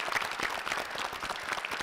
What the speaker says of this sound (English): Let's give him a round of applause and welcome him to the show.